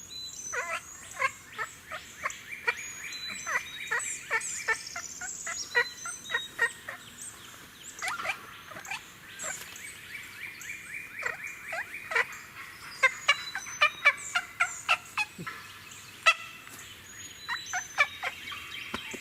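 A wild turkey purring and clucking in short rolling bursts, fairly close, over a quiet outdoor background with occasional soft rustles, during a turkey hunt in South Carolina.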